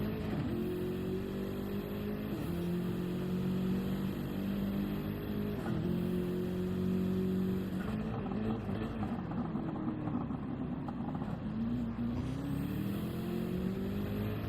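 GT race cars, including an AMG, battling at Spa during a 24-hour endurance race, with high engine notes climbing through the gears and dropping on downshifts as cars pass, all under constant loud track noise.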